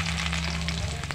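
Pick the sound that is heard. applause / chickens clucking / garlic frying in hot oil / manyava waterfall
garlic frying in hot oil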